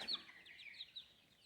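Chickens, including Leghorns and Buff Orpingtons, cluck and chirp softly nearby on a ranch in a brief, quiet burst of high-pitched fowl calls.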